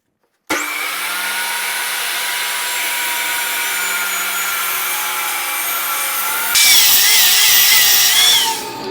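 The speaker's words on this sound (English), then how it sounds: "I'll rip them down to their final width of 2 inches on the table saw." A table saw rips wood into 2-inch-wide strips for a poster frame, a loud steady whine that starts abruptly and runs on, getting harsher and louder toward the end of the cut.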